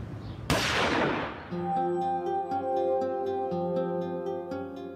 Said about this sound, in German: Kurz vor Mitternacht fallen Schüsse in einem Haus.